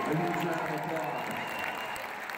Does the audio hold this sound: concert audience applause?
yes